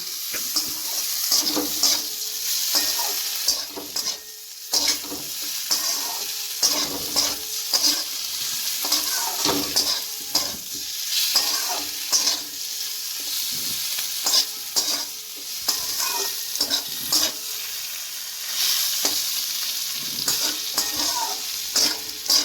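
Potatoes fry in a pan with ground cumin for a fish chorchori, sizzling under repeated scraping stirs with a spoon, an irregular clatter over a steady crackle at close range.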